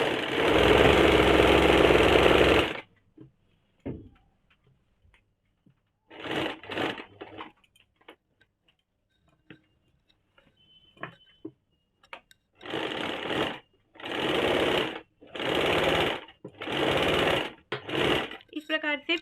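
A sewing machine stitching the round neckline of a kaftan nightie, a long buzzing run of stitches, then quiet handling, then a series of short bursts of stitching near the end, loud and close.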